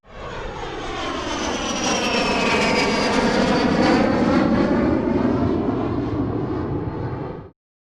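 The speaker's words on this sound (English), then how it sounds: "This is the sound a jet makes." A jet aircraft engine roars steadily and loudly for about seven seconds, a broad continuous rush with a faint high whine drifting across it, then cuts off abruptly.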